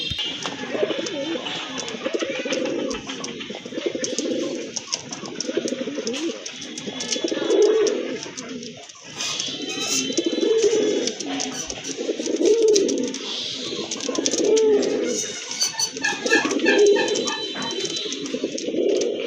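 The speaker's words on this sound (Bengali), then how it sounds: "আরেক জোড়া কবুতর চলে আসছে" Pigeons coo repeatedly in low, rolling bursts at a steady rhythm, with faint higher chirps and background noise throughout.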